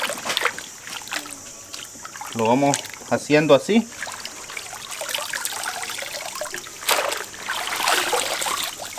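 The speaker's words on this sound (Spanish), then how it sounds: "vamos a ir pasándolo acá en este tarro con agua limpia para que suelte pues el poco de tierra" Radishes with dirty leaves are swirled and rinsed in a container of clean water, giving soft, close sloshing and trickling splashes that run throughout, while a person speaks briefly over them.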